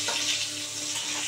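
Brinjal (eggplant) pieces deep-frying in hot oil for achari brinjal, a dense, steady, close sizzle that holds evenly throughout with no talk.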